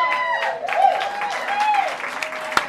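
Applause rises from the audience at an Elvis Presley tribute contest in a casino, steady, dense clapping with cheers and whistles mixed in, loud and close.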